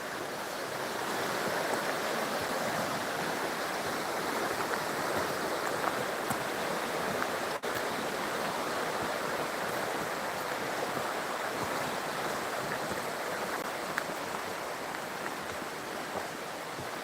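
The River Earn flows beside Lady Mary's Walk in Crieff, a dense, continuous rushing of water with no pauses, steady and moderately loud, with a faint breath of wind.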